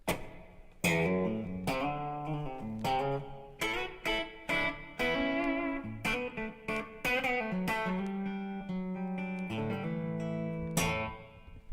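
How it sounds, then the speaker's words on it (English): Electric guitar played through a Blackstar amp with its built-in reverb set halfway, loud plucked notes and chords in a phrased run with sustained tails ringing between attacks. "Now this amp has built-in reverb."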